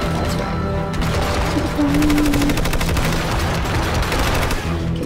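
Rapid gunfire in the video game Hitman Absolution, dense automatic bursts crackling almost continuously at high volume, with game sounds and a tonal hum underneath and no voices.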